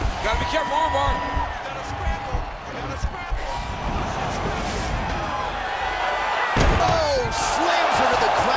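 In the UFC 4 video game, a fighter slams an opponent to the mat during a women's bout. A sharp thud lands near the end, under continuous crowd noise and steady commentary.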